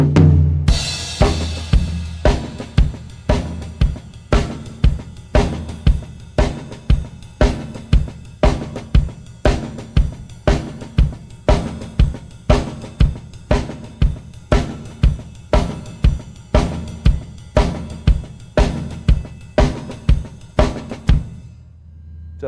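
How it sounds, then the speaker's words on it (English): Drum kit playing a steady shuffle groove, with a triplet-feel ride on the cymbal, unison bass drums and an accented snare backbeat, pulsing evenly and loudly for over twenty seconds without talk. "playing a shuffle rhythm on the cymbal"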